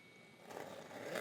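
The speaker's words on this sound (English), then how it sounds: "smooth zipper" A zipper on a Louis Vuitton small leather good is pulled open in one smooth, short stroke, a close, soft scraping rasp that builds slightly toward the end, with no talking.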